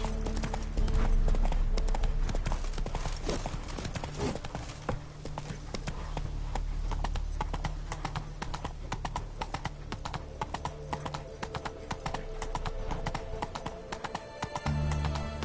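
Geralt's horse Roach gallops in The Witcher 3, a steady, loud run of hoofbeats that continues throughout, with a brief whinny and no talking.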